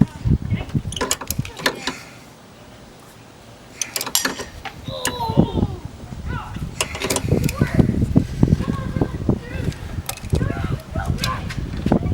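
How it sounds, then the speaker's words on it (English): A beveled ratchet with a short extension and short socket clicks and creaks while 12 mm power steering pump bolts on a 2005 Honda Odyssey are worked, in bursts of close mechanical ratcheting with someone talking intermittently. "I got a beveled ratchet with a short extension and then a short socket"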